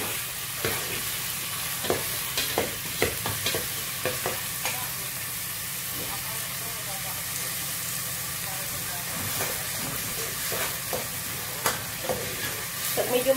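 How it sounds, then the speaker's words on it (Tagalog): Onions sauté in a pan for a chicken molokhia dish, a steady close sizzle broken by frequent sharp clicks and scrapes of stirring. "Ayan po, ginigisa po."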